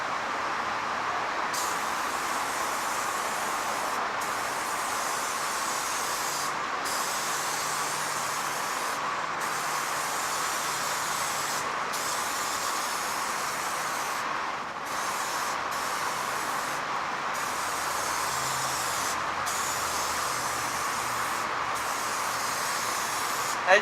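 A spray gun lays a light first coat of paint on a car, hissing steadily in long passes broken by brief pauses every couple of seconds.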